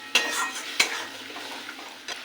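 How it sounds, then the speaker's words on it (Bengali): Rohu fish being stir-fried with poppy seed paste in a pan, a spatula scraping and clanking sharply twice against the metal over a faint, steady sizzle. "এটাকে ভালো করে কষিয়ে নেব তেল ভাসা পর্যন্ত, যতক্ষণ না তেল ভাসছে।"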